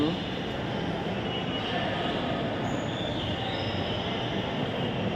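An express train rumbles along with a constant low roar and faint wheel squeal, heard from inside a carriage, with muffled voices in the background.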